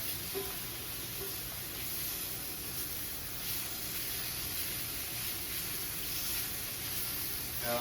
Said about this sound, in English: So sauteing the squash.